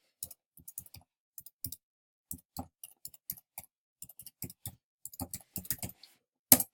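Close, dry clicks of a computer keyboard as a website address is typed, coming in short irregular bursts with brief pauses and a firmer keystroke at the end.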